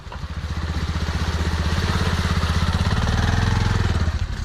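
A parked motorcycle's engine idles close by with a steady, rapid putter that stays even and moderately loud for several seconds, with no talk.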